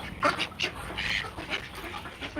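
Backyard ducks quack repeatedly in short, rough bursts at close range, several calls overlapping over a low, noisy background.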